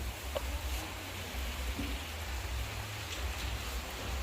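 Rain falls steadily as a soft, even hiss with a low rumble underneath, no voices present.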